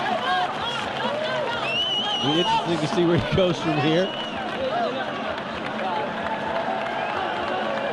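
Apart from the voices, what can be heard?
boxing crowd cheering and applauding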